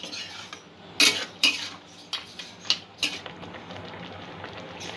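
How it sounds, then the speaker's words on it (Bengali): A metal spoon stirs tomato chutney ingredients in a pan, giving several sharp scraping clinks against the pan at irregular intervals over a faint background sizzle. "মিষ্টিটা দিয়ে আমি সব উপকরণগুলো একটু ভালো করে কিছুক্ষণ নাড়াচাড়া করে নেব।"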